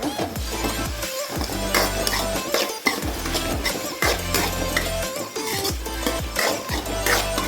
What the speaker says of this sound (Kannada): ಸ್ವಲ್ಪ ಸೋಯಾ ಸಾಸು, ನೀಟಾಗಿ ಮಿಕ್ಸ್ ಮಾಡ್ಕೊಳ್ಳೋಣ.